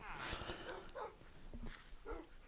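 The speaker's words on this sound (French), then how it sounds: "Waouh, l'armée de chiens." Dogs in the Minecraft video game give short, faint yips and barks in scattered bursts, mixed with quiet talk and game noise.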